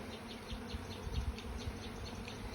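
Honey bees buzzing in a steady, close drone as worker bees crawl into a wooden hive box, with no talking over the sound.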